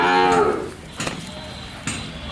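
A cow at a dairy farm gives one long, loud moo close by, followed by a few short clatters and knocks of the animal moving in its pen.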